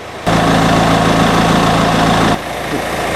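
BMW E46 2.0 diesel engine idles loudly and steadily up close with a constant low rattle, then cuts to a quieter, softer hum near the end.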